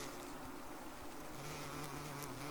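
Large yellow jacket wasps buzz at a nest during removal, a faint, steady insect drone with tonal hum lines, close but quiet throughout.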